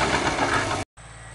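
A tractor discs up a field, its engine giving a steady, dense mechanical rumble at moderate loudness. The sound cuts out abruptly, then comes back fainter and thinner.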